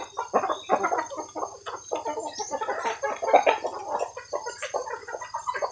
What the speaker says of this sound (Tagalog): At ayan, pinapakain na namin ang mga alagang manok.